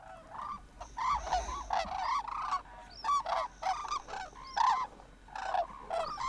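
Red-crowned cranes in a family group call repeatedly while feeding in a wintering field near the DMZ, a series of loud honking, trumpeting bursts with short gaps, close and clear with no talking.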